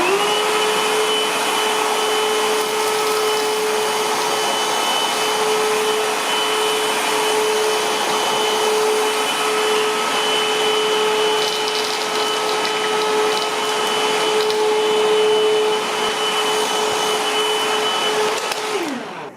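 Comfyer cordless vacuum cleaner picking up debris from a hard floor, a steady close whine with a strong constant tone running throughout and no talking.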